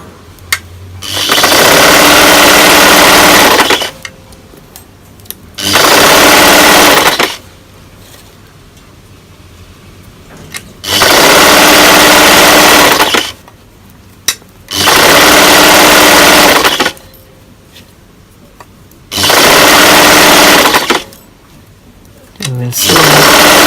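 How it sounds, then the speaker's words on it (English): A sewing machine runs a half-inch seam through T-shirt jersey in loud, steady bursts of buzzing stitching, stopping and starting several times with brief quieter pauses between runs. "So we continue sewing half-inch seam allowance."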